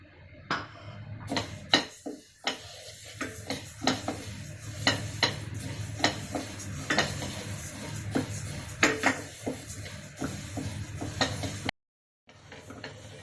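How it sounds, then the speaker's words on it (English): Split moong dal dry roasting in a pan, stirred with a utensil that scrapes and taps the metal in irregular clicks over a faint grainy rustle, close and fairly quiet with no talking. "We are going to dry roast the splitted moong dal."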